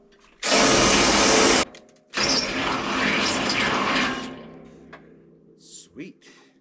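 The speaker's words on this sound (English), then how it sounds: "I'm going to try to drill the hole, the exact hole." Power drill boring a hole for a bolt during tractor repairs on a homestead: a loud, steady burst of about a second, then a longer, rougher stretch of drilling that fades out, with brief clanks and a voice at the end.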